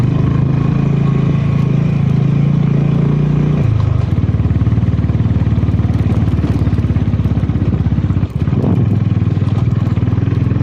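A 2022 Yezdi Scrambler motorcycle rides in first gear at high altitude, its engine a loud close throb that shifts to a rapid, rattling rhythmic pulse partway through, with a brief dip near the end.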